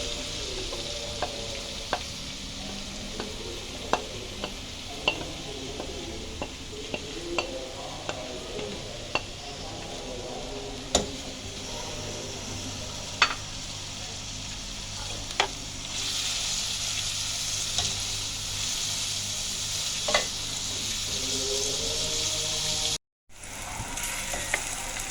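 Chopped onion fries in four tablespoons of oil with a continuous close sizzle. Regular spoon taps and scrapes recur every second or two, the hiss swells louder later on, and it cuts out briefly near the end.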